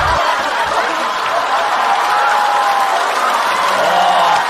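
A comedy show audience applauding steadily and loudly, a dense wash of clapping mixed with a little laughter that sustains throughout.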